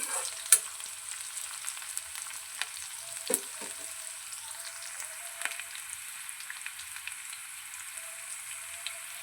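Onion pieces frying in a pan until red for a radish curry, a soft, even crackling sizzle throughout, with a few faint scattered clicks of a spoon against the pan.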